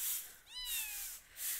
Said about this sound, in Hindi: और ये देखिए बिल्लियों को